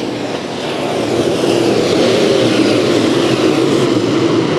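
Sport mod race cars race at Bakersfield Speedway, producing a loud, continuous engine drone that swells after the first second and then holds steady, with no talking.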